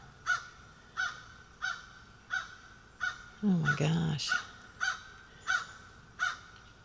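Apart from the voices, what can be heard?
noisy birds calling outdoors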